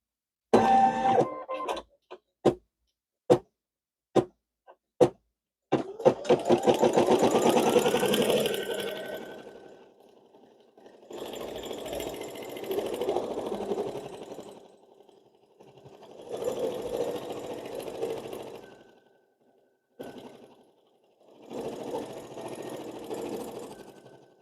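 Embroidery machine stitching a circle placement line on tearaway stabilizer in a hoop: a few separate clicks and taps, then steady mechanical stitching chatter in loud bursts with short pauses between them, close and with no voices.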